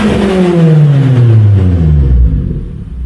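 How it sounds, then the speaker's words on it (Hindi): A 2016 Suzuki Swift fitted with an aftermarket exhaust setup is revved up close and loud, then its engine note drops steadily in pitch as the revs fall back toward idle, with no talking. "इस गाड़ी के अंदर प्रॉपर एक एग्जॉस्ट सेटअप लगाया गया है जिसकी साउंड आपको मैं सुनवाता हूँ"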